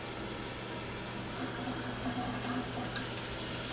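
Shower water spraying from sideways and top shower heads in a Flamingo Las Vegas mini suite, a steady close hiss of dense spray with no pauses and no voices.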